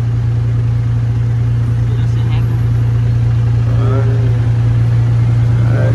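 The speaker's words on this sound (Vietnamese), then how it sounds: "2 giờ 10 ở thành phố Bangkok, nên là cái tình trạng kẹt xe nó cũng chưa quá nặng nề." Car engines drone in a steady, loud hum during a Bangkok traffic jam, with people talking over the noise throughout.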